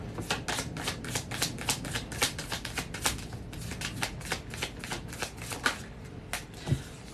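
Oracle animal cards are riffled and shuffled by hand, a rapid run of crisp, closely spaced card slaps and flicks that keeps going steadily for several seconds, close and fairly loud.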